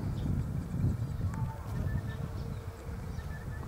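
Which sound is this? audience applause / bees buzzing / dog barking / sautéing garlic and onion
bees buzzing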